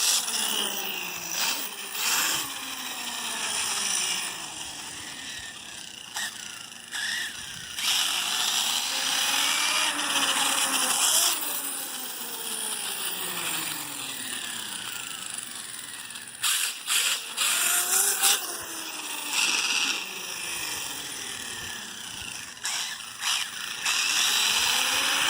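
An Arrma Kraton V4 RC car with a cracking fault whines and revs in repeated rising and falling bursts, with harsh clicking and ratcheting crackles cutting through the motor noise up close.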